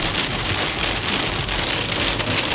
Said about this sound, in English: when it's pouring down raining like this